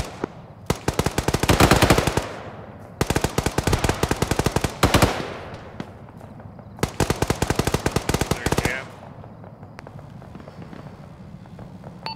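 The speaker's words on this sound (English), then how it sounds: "This is 2 audible on shots fired northeast, presumably at Razor." Automatic gunfire in a military video game, heard as three long, rapid bursts separated by short pauses, loud and fairly close, with a quieter distant shot after the last burst.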